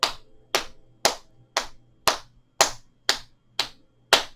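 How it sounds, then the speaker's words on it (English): One person claps their hands during a seated chair tai chi session, nine crisp, close, evenly spaced claps about half a second apart, each with a brief decay into near silence and no talking between them. "Let's clap the hands."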